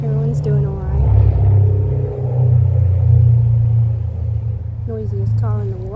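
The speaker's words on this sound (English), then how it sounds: "Noisiest car in the world just went past." A very noisy car drives past outdoors, its loud low rumble swelling and holding for several seconds. A person speaks close by just before it passes and again as it fades.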